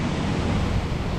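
Big North Sea waves crash and roar against the Scottish coast, a dense, steady wash of surf close by with strong wind buffeting the microphone throughout.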